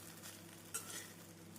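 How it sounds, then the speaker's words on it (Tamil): Ghee rice with chopped spring onions is stirred in a pan, a brief soft scrape of a spoon against the pan over a faint sizzle, close and alone. "பொடிதாக நறுக்கிய வெங்காயத்தாளை சேர்த்து ஒரு முறை நன்றாக கிளறி விடலாம்."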